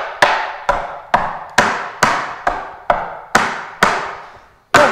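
Tap shoes striking a hard floor in a press cramp roll step: about eight crisp, loud metallic clicks in a steady, evenly spaced rhythm, each with a brief ringing decay.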